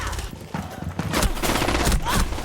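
Gunfire in a Rainbow Six Siege match, a submachine gun firing in rapid bursts that swell loud across the clip, with a voice briefly under the shots.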